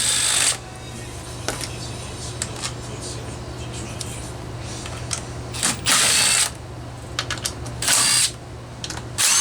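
A power tool unscrewing the starter cover screws on a Homelite XL2 chainsaw: several short whirring bursts of a driver spinning, separated by pauses with handling clicks and a steady low hum.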